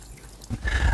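Water splashes and trickles from blanket weed lifted out of a garden wildlife pond on a stick, a quiet lull giving way to a close, brief pour of dripping water.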